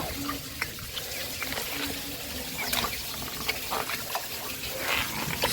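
Water running into a concrete catfish pond, a steady splashing gush with small bursts of spatter throughout.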